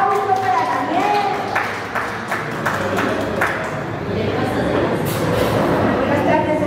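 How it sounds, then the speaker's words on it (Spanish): Applause for a guest speaker named Daniel at a Mexican TV and radio broadcast, a steady dense patter of clapping that lasts the whole stretch, with music and voices mixed in underneath. "Que se escuche el aplauso para Daniel."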